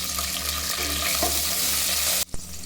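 Onions and green chillies fry with cloves in oil for mutton curry, a bright, close sizzle with low pan rumble that cuts out abruptly near the end with a single clunk before resuming faintly.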